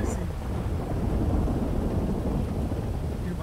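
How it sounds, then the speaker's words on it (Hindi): In a GTA roleplay game, rain pours down with deep rumbling thunder in a continuous, heavy wash of sound, steady and loud throughout, with no voices. "अरे बारिश क्या मस्त हो रही है"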